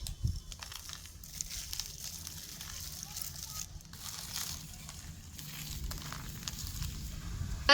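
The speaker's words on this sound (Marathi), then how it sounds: "ह्याच्यावर अर्धा किलो मीठ टाकून घेणार" Half a kilo of salt poured onto mango pieces for an old-style salted yellow pickle made in an earthen pot. It comes through as a steady, close granular rustling hiss running throughout.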